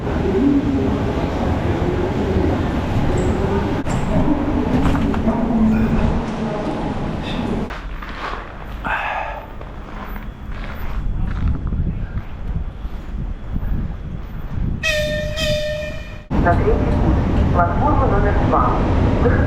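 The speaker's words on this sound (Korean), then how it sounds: "이 기차는 여기 이루쿠츠크에서 출발하는 것 같고" A train at Irkutsk station in Russia, heard as a long rumbling rail roar with wind buffeting the microphone, a short tonal squeal near the end and a station announcement mixed in.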